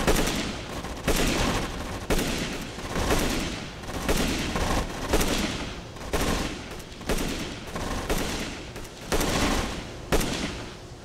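Dense WWII combat gunfire from the real-time strategy game Rush for Berlin: bursts of rifle and machine-gun fire crackle continuously, with repeated louder volleys standing out across the fight.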